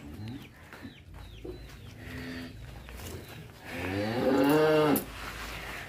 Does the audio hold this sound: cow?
yes